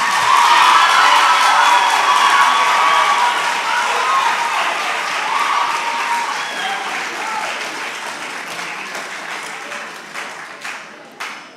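A loud audience of senior high school students at a national quiz contest bursts into applause and cheering, strongest at the start and gradually thinning out, with a few scattered claps and shouts near the end.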